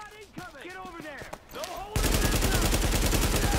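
AK rifle fire in The Division, a dense rapid burst of loud gunshots that takes over in the second half after a stretch of chirpy game effects.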